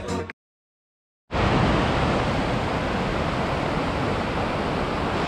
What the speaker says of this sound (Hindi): इसको कहते हैं पार्वती वैली की पार्वती नदी, पार्वती रिवर। एंड काफ़ी ज़्यादा तेज़ बहाव है